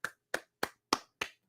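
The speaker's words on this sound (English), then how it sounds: "Everyone, round of applause for Robin" A single pair of hands claps six times in a quick, evenly spaced rhythm, each clap crisp and close, in an otherwise quiet room with no talking.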